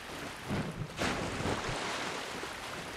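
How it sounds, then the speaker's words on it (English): A character wading through water in Dark Souls 2, a steady noisy sloshing wash with a few stronger splashing surges, continuous and fairly close. "the water is so noisy"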